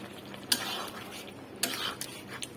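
A spoon clinks and scrapes as fried tengra fish and fresh coriander go into a potato and eggplant curry, with two brief bursts of stirring and a faint sizzle, quiet and close.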